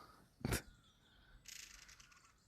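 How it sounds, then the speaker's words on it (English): A single loud, harsh bird call up close, followed a second later by softer chirping in the background. "Hear him singing away up here."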